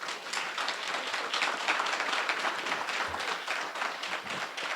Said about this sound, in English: one more final round of applause for both candidates